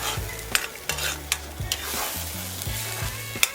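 Ginger garlic paste and two split green chillies fry in hot oil for a fish and mustard curry, a constant sizzle punctuated by sharp, irregular spatula taps and scrapes against the pan.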